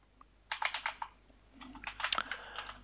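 Keys tapped on a computer keyboard while writing code: two quick bursts of close, crisp clicks separated by a short pause, quiet and without talk.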